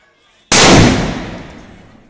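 A Diwali firecracker bursts with a sudden loud bang after a quiet pause, and the blast's rumbling echo then decays slowly.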